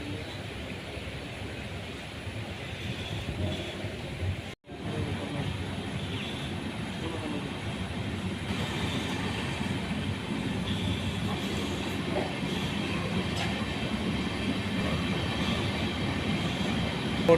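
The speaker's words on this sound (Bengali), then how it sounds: "জঙ্গিপুর রোড স্টেশন ছেড়ে দিচ্ছে আস্তে আস্তে আমাদের সায়রাং কলকাতা এক্সপ্রেস" The Sairang–Kolkata Express pulls slowly out of Jangipur Road station. A steady, broad rumble of the carriages rolls on without a break, apart from one brief dropout, and no one speaks over it.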